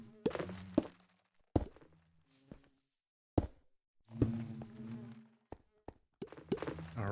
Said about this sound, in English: I can hear the bees coming out.